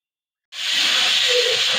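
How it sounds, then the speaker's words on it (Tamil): A pressure cooker holding mutton with bay leaf, fennel and cinnamon bursts into a loud, close, sustained steam hiss after a moment of silence, with a faint whistling tone inside the rush. "ஆறு விசில் விட்டு எடுத்துக்கலாம்."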